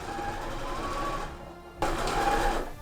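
A sewing machine runs a seam on a cosplay blouse in a short, close burst of rapid stitching, stopping for a moment and then starting up again.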